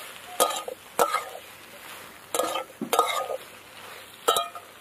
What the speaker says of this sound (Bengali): তো এবার কষাবো আর একটু টাইম নিয়ে।